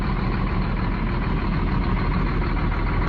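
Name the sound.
coach engine running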